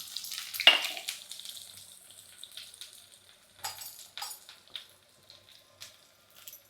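Small shallots crackle and sizzle in hot oil in a clay pot while tempering a tamarind curry, with a sudden loud hiss at first, then settle into irregular, softer spits and pops.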